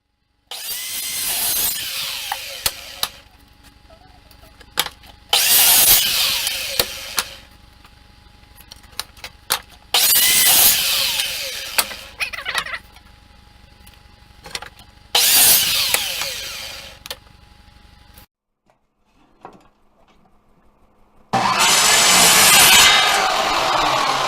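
Wooden boards for a nightstand being sawn, heard as five separate bursts of rasping strokes, each a few seconds long, with short quiet pauses between them and no talking.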